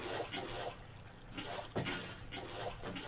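Water running through pipes in modded Minecraft, a continuous soft gurgling, trickling flow with light drip-like spikes, steady and moderately faint throughout.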